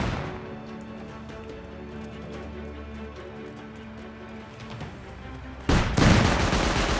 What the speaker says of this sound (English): one cannon hit brought us down to 20 right there